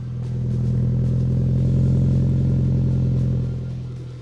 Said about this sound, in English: A little engine start there to hear the Roush exhaust.